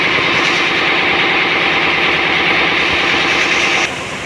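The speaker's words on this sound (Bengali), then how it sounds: "আর এটা হচ্ছে ইঞ্জিন রুম।" Loud, steady drone of a passenger launch's engine running inside the engine room of the Dhulia 1 on a river trip from Dhaka, a constant rumbling hum that drops slightly in level near the end, with no talk.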